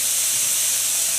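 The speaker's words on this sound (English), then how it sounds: "we're going to cook this like this for just a couple of minutes, just to sear that side" Hamburger patties sear in a hot pan with a steady, bright hiss that runs unbroken at an even level, close and loud with no voices.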